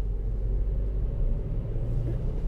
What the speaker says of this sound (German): jetzt fahre ich also ganz normal, schalte die Gänge durch